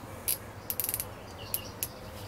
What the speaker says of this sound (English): nice, clean, crisp clicks. you fully know each time you click it.